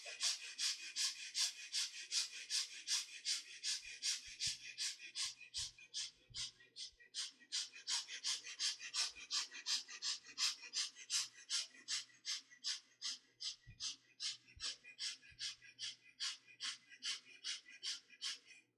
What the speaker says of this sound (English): quick and gentle breathing into the chest from both the nostrils.